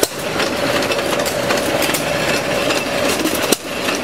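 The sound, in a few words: hit or miss engine running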